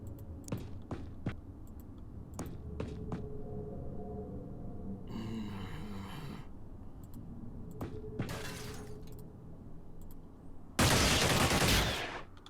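Gunfire in the turn-based strategy game Xenonauts during an enemy base assault: scattered sharp single shots and short bursts, with a louder, dense crackling volley near the end; no talking.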